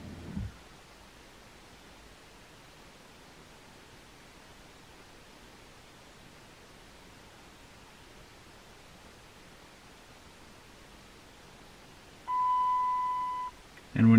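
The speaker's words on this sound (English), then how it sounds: "And when you hear that tone, that's letting you know that it's programmed." An XTOOL D7 scan tool emits a single clean electronic confirmation beep lasting about a second after programming a Mercedes-style Chrysler key, heard alone over faint background hiss.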